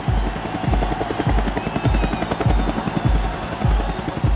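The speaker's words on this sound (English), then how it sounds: "the military sends a helicopter to pick up Chavez" A military helicopter flies close by, its rotor throbbing in a loud, steady rhythm of regular low thuds over a continuous engine whine, with no talk.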